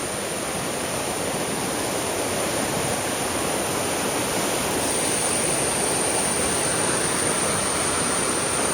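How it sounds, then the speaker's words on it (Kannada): Rushing water of a waterfall at Kabbinale, a dense, steady roar close by that fills the whole stretch without pause or speech. "ಇದೇ ನೀರು ಅಲ್ಲಿಗೆ ಪಾಸ್ ಆಗಿ ಅಲ್ಲಿಂದ ಫಾಲ್ಸು."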